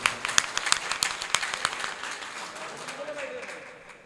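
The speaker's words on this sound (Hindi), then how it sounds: "अगर आप मुझे सुनना चाहते हैं तो एक बार तालियों से मुझे इजाज़त दीजिए" Audience at an All India Mushaira poetry gathering in Ashti claps briefly, with a burst of crisp, scattered hand claps that thins out and fades within a few seconds, leaving a murmur of room noise.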